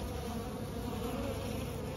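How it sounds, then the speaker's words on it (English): Honeybees leaving a hole in a tree at a trap-out make a steady, dense buzzing drone, faint but continuous and unbroken throughout. "there's bees coming out where I left the hole up here for them to get out of"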